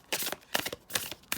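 Playing cards are shuffled in quick riffling bursts, four short crisp rattles close by with brief pauses between.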